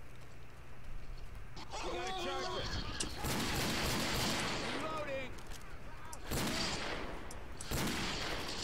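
Desert Eagle pistol shots in the zombie shooter Left 4 Dead 2, a string of sharp loud bangs with chaotic game noise under someone talking.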